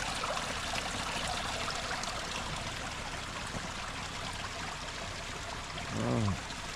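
Creek water flowing beneath a small log jam, a steady close rushing trickle throughout, with a brief low voice near the end.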